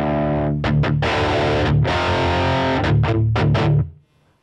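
Electric guitar through the Atomic High amp preset, a Marshall-style tone with very aggressive distortion, playing loud, dense chugging bursts and sustained chords with short gaps before ringing out and stopping.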